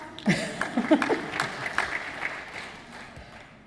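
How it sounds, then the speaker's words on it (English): Scattered audience applause at a community panel event, a few sharp claps rising and then thinning into a soft patter that fades out. "It's okay, you can clap."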